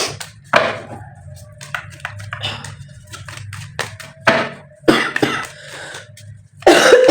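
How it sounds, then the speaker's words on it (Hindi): A woman coughs repeatedly and loudly up close in a quiet indoor setting, several sharp bursts spread out with pauses, some in quick pairs, with a throat clear among them. "आई एम सॉरी, मेरी खांसी को बेयर करना पड़ेगा आपको।"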